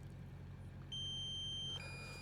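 A DJI Mini 2 SE drone app sounds its low battery alarm at 20%, a thin electronic tone that starts, steps to a new pitch, and holds steadily over a faint low hum.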